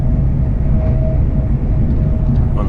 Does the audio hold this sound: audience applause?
no